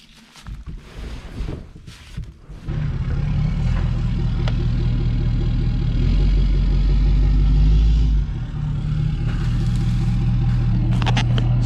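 Pickup truck engine backing up in a pasture, a steady low idle and rumble that swells after a few seconds and holds loud and close, easing slightly near the end with no talk.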